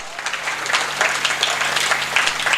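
Audience at a Hindi comedy poetry gathering breaks into applause, a full, steady patter of many hands clapping for a couple of seconds, fairly loud and unaccompanied by talk.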